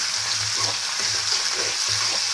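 Mushrooms shallow-frying in oil in a small pan make a close, even sizzle, with low intermittent rumbles and light stirring sounds beneath the hiss.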